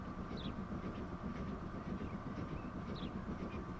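A train in the Transport Fever 2 game on a UK map, rumbling steadily with a low, continuous rolling noise and faint higher squeals, no talking over it.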